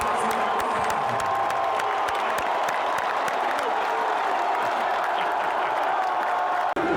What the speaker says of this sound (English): So we have to cheer extra loud today.